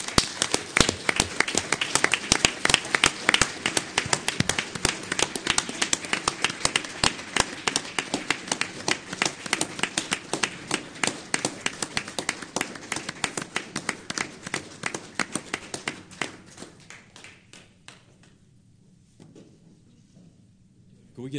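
Sustained applause from a city council meeting audience for an award recipient, dense clapping that thins into scattered claps and fades out near the end.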